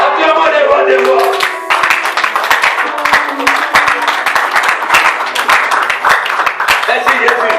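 A church congregation claps and cheers during a service, loud overlapping applause with sharp hand claps throughout, mixed with voices calling out.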